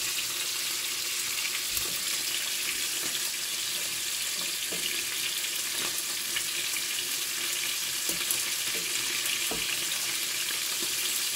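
Fish curry cooks in a pan with a constant hissing, bubbling sizzle, with occasional faint stirring clicks close by and no talk.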